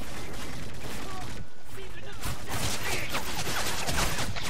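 Gunfire in Modern Warfare 3, sustained, dense rapid shots forming a continuous rattle that briefly pauses before resuming loud and steady.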